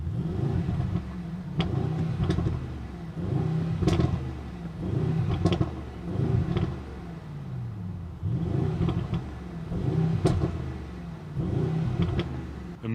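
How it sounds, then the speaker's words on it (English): A 2024 Mercedes-AMG GLE63 S facelift SUV's V8 engine revs repeatedly in loud, close bursts, its deep rumble rising and falling with sharp exhaust pops and bangs cracking between throttle blips. "How do you guys like the pops and bangs of this V8 beast?"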